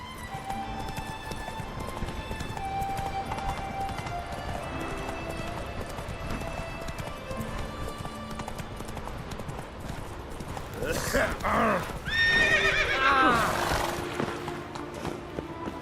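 Roach the horse gallops in The Witcher 3 with rapid, rhythmic hoof clip-clops throughout, then whinnies loudly and snorts near the end, all set against faint game background sound.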